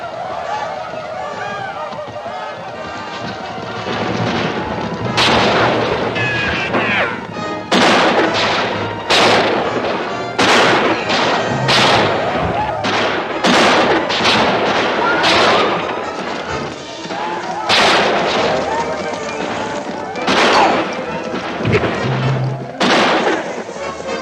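Western battle scene with loud, close bursts of artillery and rifle gunfire cracking irregularly over a continuous roar of combat, with shouted voices in between.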